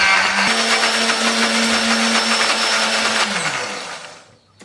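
A kitchen blender whirs loudly and steadily, grinding chili, candlenut, garlic, turmeric and shallot with a little water into a paste, its motor pitch shifting slightly before spinning down and stopping near the end.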